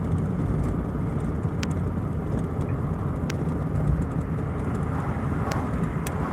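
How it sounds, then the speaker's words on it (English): A service truck loaded with about 1,000 pounds of tools runs with a cold air intake and no exhaust, giving a steady, loud, unbroken engine drone that holds constant throughout, with no other sounds over it. "That's the sound, honestly, the cold air intake makes"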